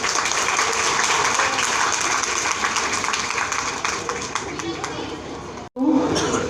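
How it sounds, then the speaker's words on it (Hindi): Crowd at a talent and education award ceremony applauds loudly for a group of NGOs, a thick continuous wash of clapping mixed with chatter and children's voices, cutting off briefly near the end before resuming. "आज मैं चाहूँगा एक बार जोरदार ताली इन सभी एनजीओ के लिए।"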